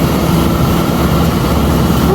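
A tractor harvesting wheat on a farm in Japan drones loudly and steadily at close range, a dense low engine rumble with no break or change.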